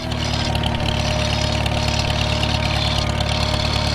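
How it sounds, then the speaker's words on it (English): A Farmall tractor engine fitted with an M&W nine-speed transmission and a new carburetor runs steadily nearby, with a constant low drone, a rhythmic thump and a high gear whine throughout. "Typical Farmall whine."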